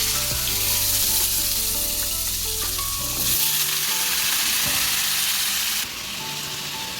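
Hot oil crackles loudly in a kadai with panch phoron and dried red chillies added before the vegetables, a continuous close-up sizzle that runs throughout, with light music in the background.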